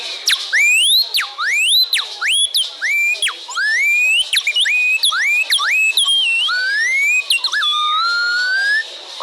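A traditional Pataxó whistle mimics the call of the anum, a black bird, with a lively stream of sliding, swooping whistled notes, rising and falling rapidly, loud and close for several seconds.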